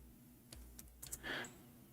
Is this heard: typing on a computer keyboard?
yes